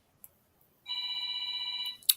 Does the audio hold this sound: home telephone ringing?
yes